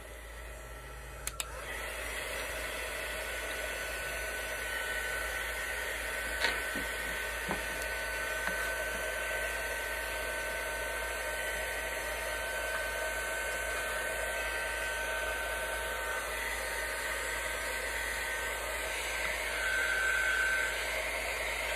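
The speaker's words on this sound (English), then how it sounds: "let me put this dryer on this real quick" A hair dryer blows on a buffalo plaid candy corn craft piece, a quiet, steady whoosh running continuously throughout with a few faint clicks and small knocks near the start.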